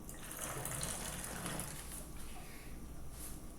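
Hot water pours steadily into a cup of instant noodles, a soft continuous splashing trickle, faint and close, with no talking.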